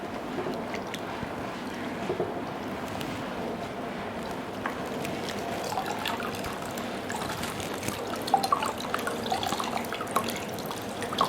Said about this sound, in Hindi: तो इस वक्त आप फ्रिज की बोतल का पानी ले सकते हैं। इस पर पट्टी को पूरा गीला कर लेंगे।